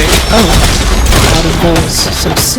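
Loud, dense gunfire rattles through a Naraka: Bladepoint bot match, with booming bursts packed close together while players talk over the shooting.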